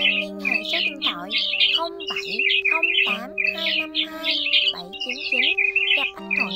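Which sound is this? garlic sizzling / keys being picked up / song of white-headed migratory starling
song of white-headed migratory starling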